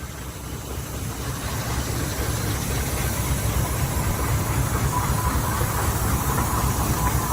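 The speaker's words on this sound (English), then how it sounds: "here's the engine we're on, Fowler road locomotive" A Fowler road locomotive, a steam traction engine, runs with a steady, loud, low rumble and dense rhythmic chuffing heard from aboard, unbroken and without voices for several seconds.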